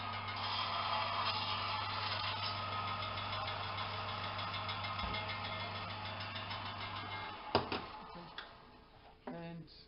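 A belt sander cleans hacksaw marks off icemaker shafts, a steady close motor hum and belt rasp that runs evenly, then stops near the end amid a few knocks and clatter.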